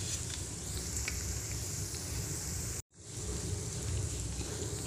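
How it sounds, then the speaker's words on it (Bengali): Snack frying in oil over a low flame in a home kitchen, a steady, close crackling sizzle that runs continuously, broken by one brief dropout of near silence partway through. "একদম লো ফ্লেমে ভাজবো"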